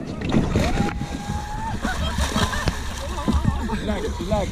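People plunge into a river during white-water rafting at Dandeli, with a splash and churning water amid loud voices and shouting throughout.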